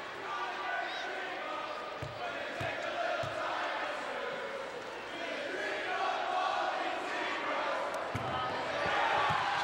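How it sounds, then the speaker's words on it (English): Central Catholic student section singing and chanting in the stands at a girls high school basketball championship game, a steady loud crowd roar throughout with ball bounces and sneaker thumps mixed in. "Getting serenaded by the Central Catholic crowd."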